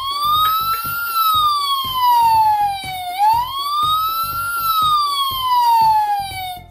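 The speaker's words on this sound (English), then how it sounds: "That turns on the ambulance lights and sound." A Barbie toy ambulance playset sounds an electronic siren when its button is pressed, a loud continuous wailing tone that rises and falls in long sweeps, with faint clicking underneath.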